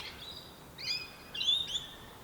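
Bird calls from a tree in a churchyard near a small park, parrot-like birds: a few short bright chirps at moderate distance, faint over a quiet background.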